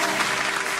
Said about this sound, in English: Clap it up for the FB people.